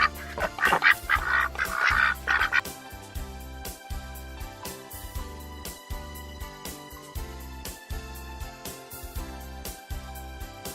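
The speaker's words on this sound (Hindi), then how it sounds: "छह बतखें" Ducks quack in a quick run of bursts at the start, then fade back under a steady, rhythmic musical beat that carries on to the end.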